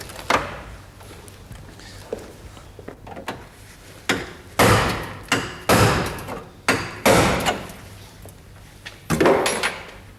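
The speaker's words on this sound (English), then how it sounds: "We may need to prise it off with a hammer and chisel." Hammer and chisel prising a car body panel off during bodywork repair: a series of loud, sharp metallic blows, irregular and close, some landing in quick pairs, with quieter taps between.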